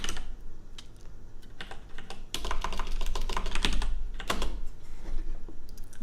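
Rapid clatter of typing on a computer keyboard, close and fairly loud, in uneven bursts of keystrokes that grow busier midway, with no talking.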